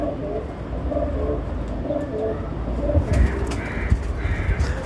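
Ferozpuri pigeons cooing in repeated soft, low throaty phrases, close and steady over a constant background hum, with a few sharper clicks and flutters near the end.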